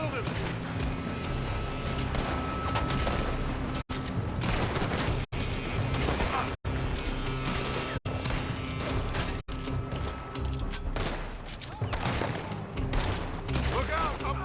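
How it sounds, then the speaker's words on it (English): Sustained gunfire pours from a building in Red Dead Redemption 2, loud and continuous for the whole stretch with brief cuts of silence, dense shots layered with voices and game noise. "They're shooting from that building!"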